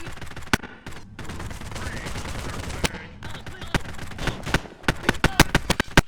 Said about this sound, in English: There's only one issue that annoyed me, which is this weird audio popping